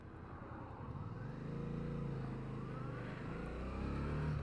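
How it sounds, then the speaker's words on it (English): A car drives past on a road, its engine note rising as it approaches and holding near and fairly loud, with a faint whine running through the passing and no talking. "Let this car go by."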